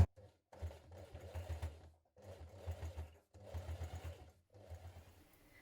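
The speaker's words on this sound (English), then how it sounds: "we're going to top stitch along that top curve" A sewing machine top stitches a curve on a cross body bag, running in four short bursts of rapid, even chattering with brief pauses between them, close and fairly quiet.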